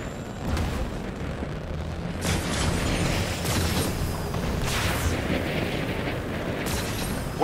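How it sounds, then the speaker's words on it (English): Enemy artillery shells explode in Marvel's Avengers, a steady, dense roar of booms and blasts rolling on without a break, loud and close throughout. "Their artillery's targeting you"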